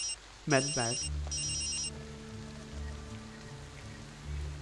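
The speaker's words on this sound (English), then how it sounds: "You're hearing an agent ringing." A phone rings from inside a medical bag: two short electronic ring bursts, close and clear, over a low hum.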